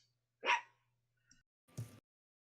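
A dog gives one sharp bark, then a faint yip and a rougher, lower bark after a pause, against an otherwise silent room.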